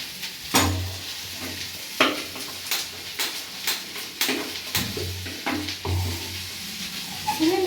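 Coriander sautés in a pan, with close spoon scrapes and clanks against the metal over a soft sizzle, coming in irregular strokes with a low hum underneath.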